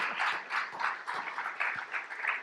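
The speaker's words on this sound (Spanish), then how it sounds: "si le va a aplaudir al Señor, apláudale bien." A church congregation claps in praise, a steady, moderately loud patter of many hands with a few louder individual claps, continuing throughout.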